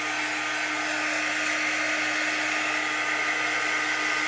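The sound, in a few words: drying tool blowing on freshly inked chalk couture craft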